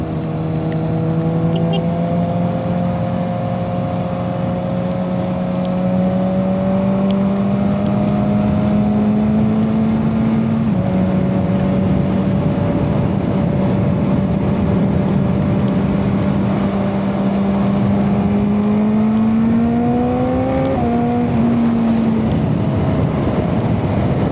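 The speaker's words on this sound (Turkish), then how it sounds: "sabit gazla vites düşürerek" Kawasaki Z1000 motorcycle riding at steady throttle and downshifting, a loud, close engine drone that holds a steady pitch, steps down at the shifts and rises again, with constant wind rush and no talk.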